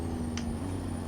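A modded heavy truck engine in a driving video game with its Jake brake engaged gives a steady, low, droning engine tone, moderately loud, with a brief faint hiss partway through.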